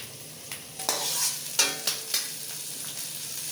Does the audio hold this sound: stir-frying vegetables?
yes